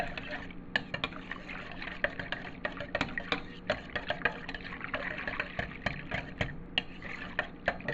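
A whisk clicks rapidly against a bowl while olive oil is beaten into lukewarm liquid for pita dough, with a fast, steady, close tapping and light liquid sloshing.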